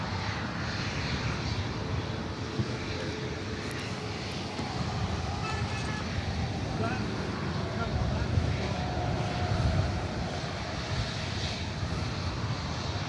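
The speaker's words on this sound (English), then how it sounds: "up next is that Frontier flights coming in from SFO, Nevada, the Red Fox livery, flight 4594. It's an A320 Neo." A Frontier Airbus A320neo in Red Fox livery, flight 4594 from San Francisco, arrives at Los Angeles International Airport with a loud, steady engine roar that swells slightly as it passes close.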